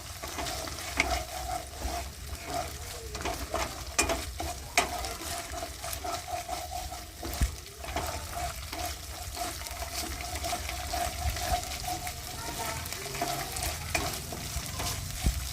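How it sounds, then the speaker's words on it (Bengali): Cumin, chili and coriander pastes stirred and fried in a pan, a steady close sizzle with frequent scraping stir strokes throughout, no talking. "এই তিনটে জিনিস এবার আমরা দিয়ে ভালো করে এটাকে নেড়ে নেব।"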